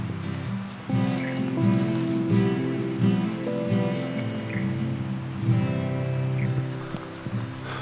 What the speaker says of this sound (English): the rain is here. It's starting to get a little bit heavy as well